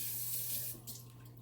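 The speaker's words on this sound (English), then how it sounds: "just rinse the can around like that" Tap water at a kitchen sink rinsing out a tomato can, a brief close hissing rush of running water that tapers off over a low hum, no talk.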